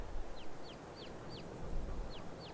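Little chicks peep on a farm pasture kept with chickens and ducks, six short high chirps repeating at a steady pace over a constant low outdoor rumble, fairly faint and with no talking.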